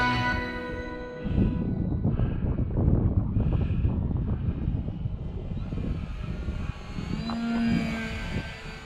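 An E-flite Sportix radio-controlled model airplane flies past with a buzzing electric motor whine that rises and shifts in pitch, mixed with gusty wind noise on the microphone.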